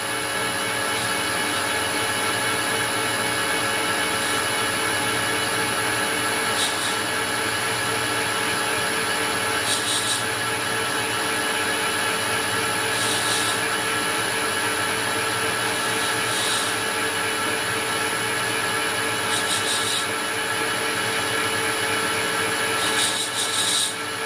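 A lathe at 600 RPM cuts a bronze Acme nut blank under hand feed on the top slide, giving a steady continuous machining drone with a high whine and brief periodic scraping bursts every few seconds, no talking.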